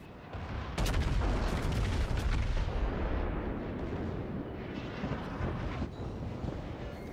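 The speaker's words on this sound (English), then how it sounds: "Secondaries are popping off, but they are the least of my trouble right now" The secondary guns of the battleship Montana fire in World of Warships as a dense, loud barrage of overlapping booms and cracks. A burst of sharp shots near the start settles into a continuous rumbling roar, with no talk.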